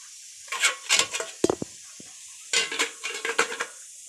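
A metal dhokla steamer pot set down on a stove, giving a few sharp clanks and scrapes in two short bursts separated by a pause, close and fairly loud.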